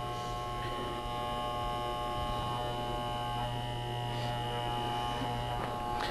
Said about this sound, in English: clippers are open, extended, the lever is extended all the way out